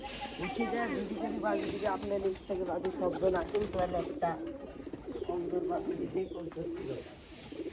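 Flying pigeons kept at a house coo in repeated low, rolling bursts nearby, a steady chorus with the odd wing flutter, under people talking.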